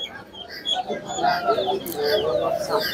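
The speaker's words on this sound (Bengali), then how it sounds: "হ্যাঁ, ম্যাকপাই কবুতর।" Black magpie pigeons at a bird market coo and warble in low, soft rounded calls, with other bird chirps and faint market voices around.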